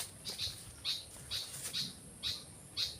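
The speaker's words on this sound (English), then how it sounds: "I can hear a few birds." Short bird chirps repeat at a steady pace, about six calls spaced evenly, moderately faint in a quiet rural Philippine countryside setting.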